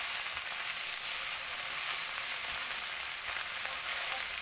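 Egg fried rice with tomato stir-fries in a pan, giving a loud, continuous close-up sizzle with a bright hiss and slight fluctuations as it is stirred, with no talking.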